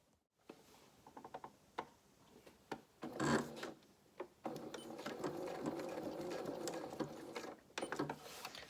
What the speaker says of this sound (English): get my machine set up for a 3 length stitch, and we'll top stitch down this